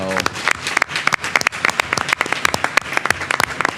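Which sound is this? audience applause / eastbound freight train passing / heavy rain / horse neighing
audience applause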